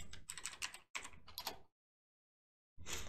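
Keys clatter in quick bursts on a computer keyboard as a Terraform command is typed, close and clear, stopping for about a second before the typing resumes.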